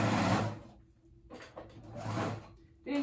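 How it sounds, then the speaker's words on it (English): A sewing machine top stitching around a fabric reusable snack bag runs in two short bursts separated by a brief pause, close and fairly quiet. "So we're gonna go ahead and top stitch and then we'll be done."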